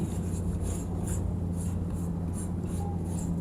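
Steady scratchy strokes of a marker on a classroom board, rhythmic and close, over a constant low hum of room noise with no speech.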